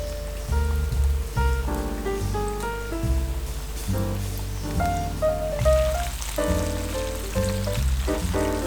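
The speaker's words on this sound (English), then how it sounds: "we want to fry our beef. So just fry till golden brown and crispy." Beef frying in hot oil for a sweet chili crispy beef stir fry, a continuous crackling sizzle that stays steady throughout under prominent background music.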